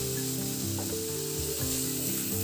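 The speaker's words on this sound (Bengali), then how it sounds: "আদা রসুন বাটাও পেঁয়াজের সাথে ভালো করে ভেজে নেব" Ginger-garlic paste fries with onions for a fish curry, giving a dense, steady sizzle that stays close and even throughout, with no speech.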